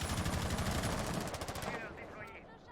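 Rapid automatic gunfire in a Rainbow Six Siege match, loud and close, with dense bursts of shots that ease toward the end and a commentator's voice underneath.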